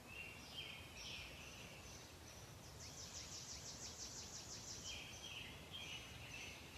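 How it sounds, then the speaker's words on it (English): Birds sing outdoors: faint, far-off chirps and trills repeat in quick series over a steady soft hiss of background noise. "So begin by just noticing the sounds of the birds."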